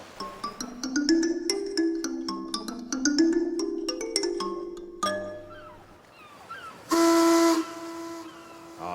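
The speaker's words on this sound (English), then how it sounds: "It's good to hear the old mine whistle blow again" An old mine steam whistle at the Britannia Mine on Howe Sound blows in a long, steady, harmonically rich blast, following a stretch of layered, sustained tonal notes and clangs.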